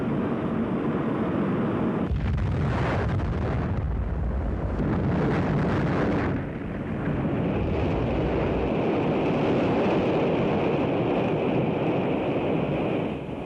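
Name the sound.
rocket explosion after launch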